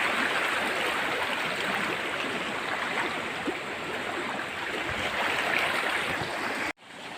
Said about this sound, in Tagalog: Grabe yung inabot nitong ilog.